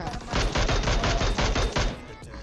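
Rapid bursts of PUBG Mobile gunfire, loud and close, several volleys firing in quick succession with no talking.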